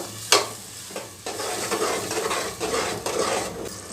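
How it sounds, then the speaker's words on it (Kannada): Tomato paste fries in hot oil for mint pulao, giving a close, steady sizzle with a sharp utensil clink at the start and repeated stirring scrapes against the pot. "ಇದು ಕೂಡ ಎಣ್ಣೆಯಲ್ಲಿ ಚೆನ್ನಾಗಿ ಫ್ರೈ ಆಗಬೇಕು"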